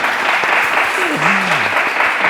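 A church congregation gives a steady round of applause, a broad, continuous wash of many hands clapping together, with a voice briefly sounding through the middle.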